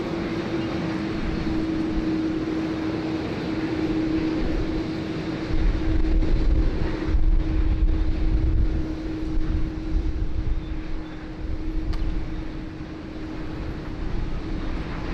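Qatar Airways Boeing 777-300ER at Sydney Airport, a steady jet engine roar with a sustained low hum, swelling louder midway as the aircraft draws nearer, continuous throughout with no talk.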